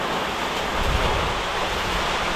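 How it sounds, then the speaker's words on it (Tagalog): Heavy rain pours steadily during Typhoon Kristine, a dense continuous roar with gusting wind buffeting the microphone and no voices. "lumakas yung ulan"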